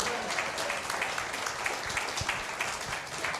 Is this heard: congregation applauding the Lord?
yes